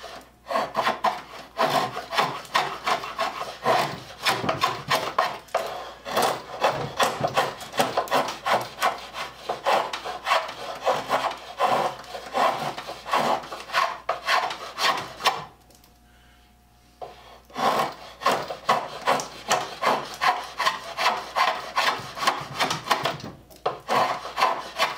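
Steady, rhythmic scraping of a sharpening stone worked back and forth along a draw knife blade, close and loud, with a brief pause in the middle before the strokes resume.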